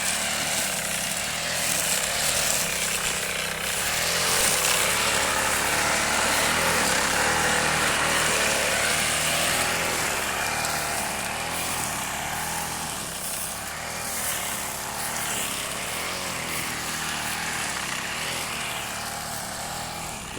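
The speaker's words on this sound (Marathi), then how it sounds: "तर कटर मारायचं काम चालू आहे" A brush cutter clearing overgrown grass in a cashew orchard, its engine whining in a loud, continuous drone for the whole stretch with slight rises and dips as it works.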